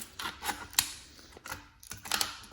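Milwaukee offset aviation snips cut through a thin 30-gauge sheet metal collar, giving a series of crisp snipping clicks and short metallic crunches in an irregular rhythm, close up and fairly quiet.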